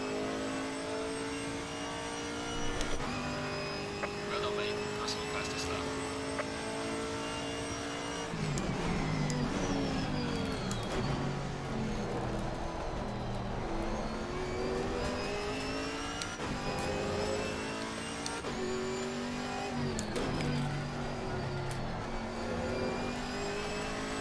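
Chevrolet Camaro GT4 race car engine at Laguna Seca in Assetto Corsa Competizione, loud and continuous, revving up through the gears with sharp drops on downshifts and upshifts, no voices.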